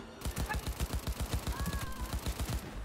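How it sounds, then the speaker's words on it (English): Rapid automatic gunfire in Cyberpunk 2077 rattles steadily for nearly three seconds, a dense run of sharp close shots with a faint whine and some background voice under it. "Heard shots."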